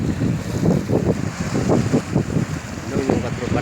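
Strong sea waves and gusty wind at Dammam Corniche, rolling surges of rough water and buffeting wind noise close and loud, with some indistinct voices mixed in.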